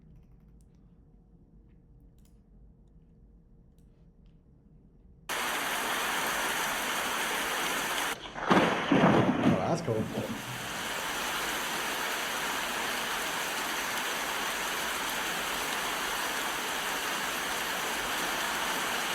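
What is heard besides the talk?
rain and thunder theme from a video game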